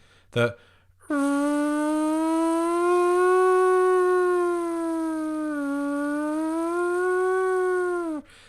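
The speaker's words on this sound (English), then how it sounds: "they play the air raid sirens" A loud, steady wailing air raid siren test in Paris holds a sustained tone for several seconds with slight pitch wavers, after a brief thump at the start.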